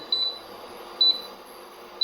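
The control panel of a Termia electric induction cooktop gives short, high electronic beeps, three separate chirps spaced about a second apart over a quiet background hiss.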